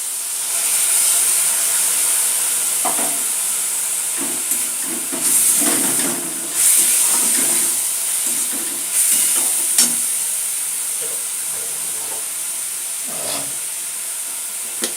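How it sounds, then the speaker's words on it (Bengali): Tamarind water hits red amaranth greens frying in a pan, raising a loud steady sizzle and hiss, broken by brief clinks and stirring scrapes. "এবার আমি এর মধ্যে এই তেঁতুলের জলটা দিয়ে দিচ্ছি।"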